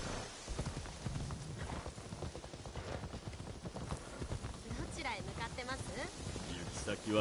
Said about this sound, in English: Take her in on a horse ride.